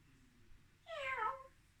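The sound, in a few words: person imitating a cat meowing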